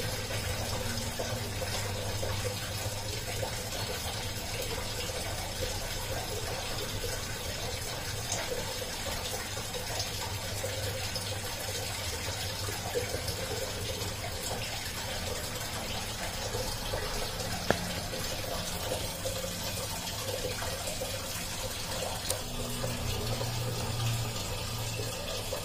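An LG top-loading washing machine fills its tub with water, a steady, continuous rush and hiss of flowing water with a low hum underneath, unbroken throughout.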